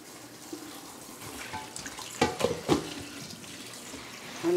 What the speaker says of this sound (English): I'm going to turn on the cold water because I want to stop the cooking.